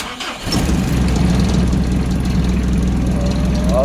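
Car engine starting at home after a battery check: a brief crank, then the motor catches and settles into a steady, loud, close idle with a low rumble.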